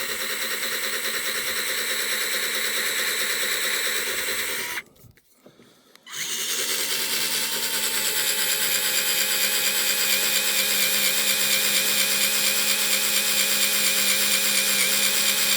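A power drill bores steadily through a steel railway rail, a loud continuous grinding whine that drops out briefly for about a second before resuming just as strong.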